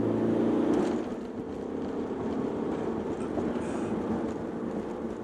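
A remapped Audi A4 2.0 TDI accelerates in third gear, giving a steady, droning diesel rumble heard from inside the cabin, with road noise blending in at a moderate level.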